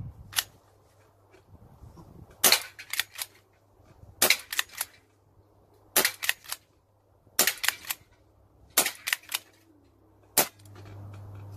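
Single-shot magazine-fed airgun loaded with Umarex flathead pellets, fired at cans: about seven sharp cracks at irregular intervals, each followed by a metallic ping or rattle, over a low steady hum with no talk.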